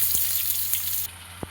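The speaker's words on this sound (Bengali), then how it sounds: "এবারে আলুগুলো ভেজে নেব আগে আমি" Potatoes fry in oil with salt and turmeric, giving a steady broadband sizzle that drops noticeably partway through, with a low hum and a couple of faint clicks underneath.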